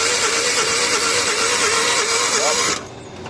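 Suzuki DA64W van with K6A engine that won't start, cranking steadily on the starter during a compression test, a loud continuous churning drone that cuts off abruptly near the end.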